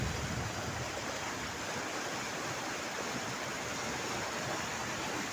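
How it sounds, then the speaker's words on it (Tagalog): Large floodwater rushing like a river, swept along hard enough to carry away banana plants: a loud, steady, unbroken roar of churning water that fills the whole stretch with no pauses. "Sobrang laki ng baha."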